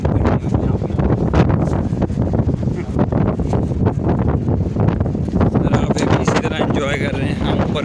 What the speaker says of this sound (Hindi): बहुत तेज़ हवा है पंजाब में